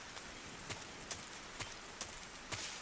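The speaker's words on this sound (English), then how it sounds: "It's the rain, isn't it?" Steady rain falls in the video game Metal Gear Solid 3, a quiet, even broadband hiss with a few soft intermittent thuds or drips spaced through it, no voices present.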